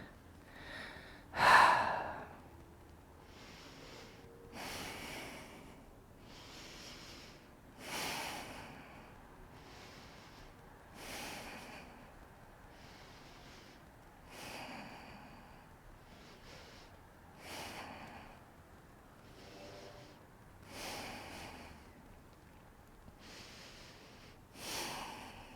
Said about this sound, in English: Take a deeper breath.